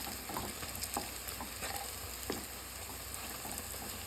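Bora fritters sizzle and crackle steadily in hot oil in a pan, a close, continuous frying hiss dotted with small pops and stirring sounds, with no talking.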